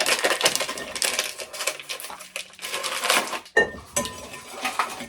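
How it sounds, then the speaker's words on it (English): Vanilla instant pudding mix being stirred in a bowl, a busy close clatter of utensil scraping and clinking against the bowl, continuous with a brief pause near the end. "Give it a mix"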